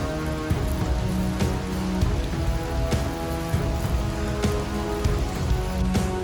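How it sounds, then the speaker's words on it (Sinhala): Heavy rain pours down in a dense, continuous patter on nearby surfaces, loud and steady throughout, with a few sharper drips and no voices. "හයියෙන් වහිනවා"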